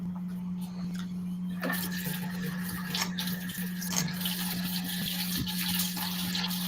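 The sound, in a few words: water being added to a pot of pinto beans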